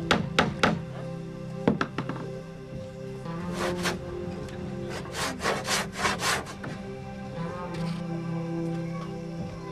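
Sandalwood being sawn and carved by hand: repeated rasping saw strokes and scraping cuts with occasional knocks and taps on the wood, close and steady, with low background noise and no talk.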